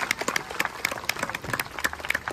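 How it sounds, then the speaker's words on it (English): An audience at a lion safari show claps for the trainer, a thin scattering of distinct, fairly faint handclaps over a couple of seconds. "Let's give our trainer a big round of applause."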